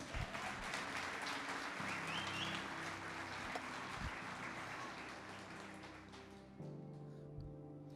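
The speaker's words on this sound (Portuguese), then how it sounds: "Será que você pode aplaudir Jesus?" A church congregation applauds steadily through a sermon about devotion to Jesus, a broad wash of clapping with sustained organ or keyboard chords underneath that shift pitch partway through.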